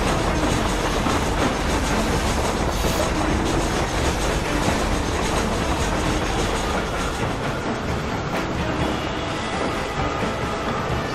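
A train engine in the video game Red Dead Redemption rumbles steadily along the rails, a dense continuous roar with faint rhythmic clatter of wheels, loud and unbroken throughout, with no talk.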